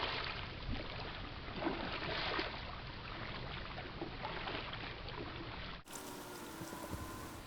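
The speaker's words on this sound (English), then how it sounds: "So we're going to paddle out and see how things go." A repaired kayak glides on open water, with soft paddle strokes and gentle splashing and trickling under a steady low wash, fairly faint, then a sudden cut to brighter water sound near the end.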